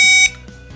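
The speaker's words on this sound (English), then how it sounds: "That's the continuity tester." A PowerProbe continuity tester gives a single steady electronic beep lasting about a quarter second, close and clear, then stops.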